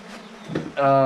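Bees buzzing around a wild mountain honeycomb being harvested for honey, a brief close drone that swells into a louder, steady tonal buzz near the end.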